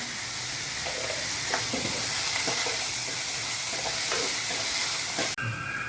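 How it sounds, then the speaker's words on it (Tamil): Onions are sautéed with a little salt in a pan, a constant loud sizzle with soft scraping stir strokes throughout, cutting off sharply near the end. "நல்லா வதக்கிக்கலாம். வெங்காயம் வதங்குறதுக்கு கொஞ்சமாக உப்பு சேர்த்துக்கலாம்."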